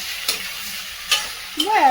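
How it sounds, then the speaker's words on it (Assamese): Okra and fish frying in a pan with soft sizzling under three sharp spatula stirs, close by, with a voice starting at the end. "এইফালে ভাজি আছে ভেন্দি, সেইফালে মাছ ভাজি হ'লে"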